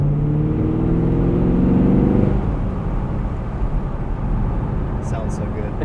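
A 2017 Chevrolet Camaro 2SS convertible with a 6-speed manual, heard from inside while driving: the V8 drones and rises steadily, then settles into a lower rumble with road noise.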